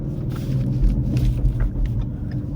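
A yellow manual GT car engine rumbling at low speed nearby, a deep, steady throbbing idle-like growl filling the short stretch without pause.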